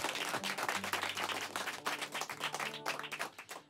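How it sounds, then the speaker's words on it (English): An audience applauding at a live music show, a dense, sustained wash of many hands clapping that thins slightly toward the end. "give him another round of applause"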